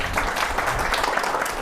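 An audience at a seminar on companies going public claps together, a dense, steady burst of applause that fills the whole brief moment.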